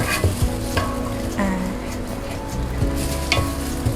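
Chili paste stir-frying in a pan for Thai kaeng khae pork curry, a steady sizzle with scraping stirs and occasional clinks of a utensil against the pan, close and continuous, with no talk.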